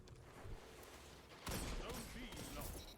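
Handcannon fire in Destiny, a burst of sharp, rapid shots that begins suddenly partway through and lingers as echoing crackle, with background game noise before it.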